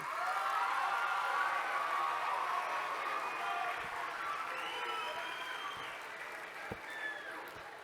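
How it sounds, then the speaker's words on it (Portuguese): An audience in a school auditorium at Colégio Presbiteriano Mackenzie Higienópolis applauds steadily, a dense wash of clapping that holds strong and then slowly tapers off near the end. "Tenho certeza que esses aplausos, eles não são de graça"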